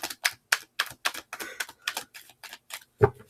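Tarot cards are shuffled in a rapid run of crisp, close riffling clicks at a steady rhythm, ending in a slightly heavier tap, with no talk over them.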